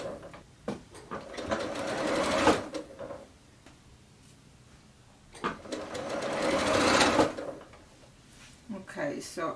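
A sewing machine stitches quilt blocks in two bursts of rapid, close mechanical whirring, the second longer, separated by quiet pauses with soft handling clicks while a person talks.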